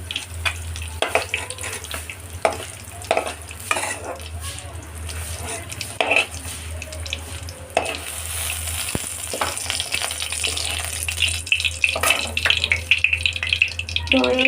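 Ingredients fry in oil in a pan for a mixed vegetable dish, a steady sizzle broken by clanks and scrapes of a utensil, growing busier toward the end.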